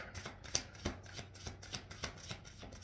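Tarot cards being shuffled by hand at close range, a steady run of crisp riffling snaps and soft slides repeating roughly every half second, with no voices.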